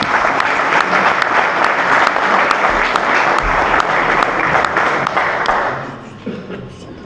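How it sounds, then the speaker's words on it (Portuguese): An audience in an auditorium claps at an anniversary ceremony, giving loud, dense applause that carries on steadily and then fades out over the last second or two. "Podem bater palmas."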